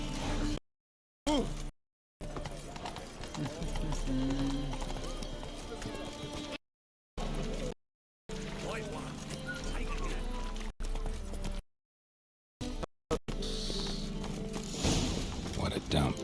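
A horse galloping in The Witcher 3: Wild Hunt, with steady hoofbeats and an occasional neigh under game sound, broken by several short silent gaps.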